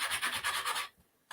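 A silver coin edge is sanded by hand with rapid rhythmic rubbing strokes. The strokes sound close and bright, then break into a short silence before one final scrape.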